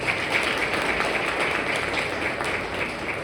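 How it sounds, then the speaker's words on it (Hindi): Audience applause welcoming a speaker at a school parenting workshop, a steady wash of many hands clapping, moderately faint and even, with no talking over it. "जोरदार तालियों से हम स्वागत करते हैं"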